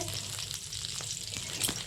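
Pointed gourd sizzles steadily in a hot pan over low heat, a continuous crackling fry with small pops, close up and with no talking.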